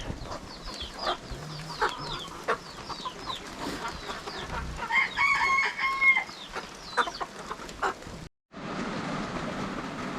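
Chickens on a rainy spring earth-oven homestead cluck and a rooster crows repeatedly, fairly close, with wet outdoor ambience; a brief dropout near the end.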